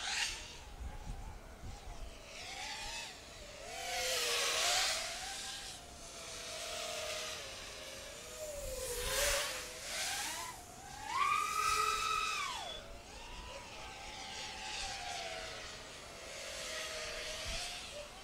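FPV drone on Hobbymate 2305 motors and a 6S LiPo battery whines overhead, its motor pitch rising and falling with throttle punches and swoops, moderately loud with distant wind noise.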